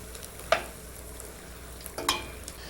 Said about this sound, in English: Lovely sound of swishing and crackling when the deep frying goes on.